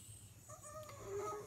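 A dog whimpers and whines indoors in a few short, high, tonal cries that rise toward the end, fairly close over low background hum.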